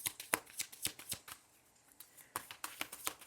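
A deck of tarot cards is shuffled, a quick riffle of soft fluttering flicks, a short pause, then another burst, close and quiet with no talking.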